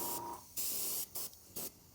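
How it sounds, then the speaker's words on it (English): Short hissing blasts of spray paint coating a Battletech miniature model, close and fairly quiet, in four bursts of varying length separated by brief pauses. "let's go ahead and finish spraying our model here"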